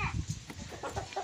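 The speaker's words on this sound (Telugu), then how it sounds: "మొత్తం 5 కోళ్ళు ఉంటాయి." Several fighting-line chickens cluck and squawk in short, uneven bursts close by, a small flock of around five birds calling with no voices over them.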